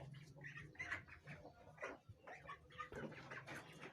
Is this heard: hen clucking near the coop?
yes